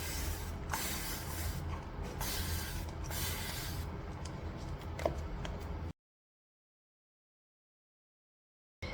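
A steady close hiss of spraying onto the roots of an anthurium plant, lasting several seconds with slight pulses before cutting off abruptly into silence.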